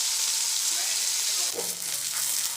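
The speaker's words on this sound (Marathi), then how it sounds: "आतमध्ये हे मोरीचं काळीच सोडल्यानंतर तेलामध्ये गॅस बारीक करून भाजायचं आहे" Shark fish pieces frying in hot oil over a low flame, a loud, dense, steady sizzle heard close by with a soft bubbling crackle.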